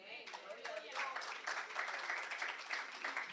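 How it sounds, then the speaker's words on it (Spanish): A church congregation applauding during a Spanish-language sermon, a quiet, distant patter of clapping that rises and holds steady, with voices mixed in underneath. "Aplaudan al Señor."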